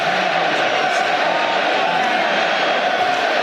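A football stadium crowd at a World Cup qualifier between Wales and North Macedonia gives a steady, loud roar that fills the scene at a distance, with no clear voices above it.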